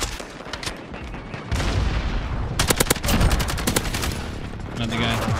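AUG rifle fire crackles in Modern Warfare, a loud rapid automatic burst of sharp shots in the middle, with more gunfire and game noise around it.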